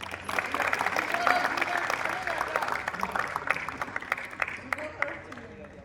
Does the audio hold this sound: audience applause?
yes